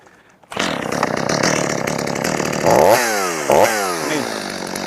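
A Stihl MS 250 chainsaw starts up and cuts oak, a loud close buzzing whine that bogs and revs twice as the chain bites into the wood.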